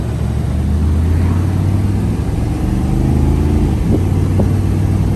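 A truck engine pulls hard under acceleration, a steady low growl that holds loud and close throughout, with a rising whine near the end and no talk over it.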